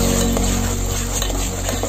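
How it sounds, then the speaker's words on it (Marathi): Ground masala paste with curry leaves sautéing in hot oil for a koli Agari-style prawn curry, a loud continuous sizzle with the scrape and clink of a spoon stirring in the pan. "पण याला सगळीकडून परतून घेणार आहोत।"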